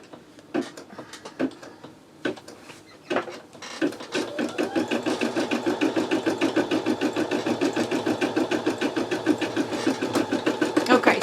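An embroidery machine stitches out a design with polyester thread, starting with a few slow, separate clunks and then settling into a steady, rapid mechanical chatter of needle strokes, close and even in loudness.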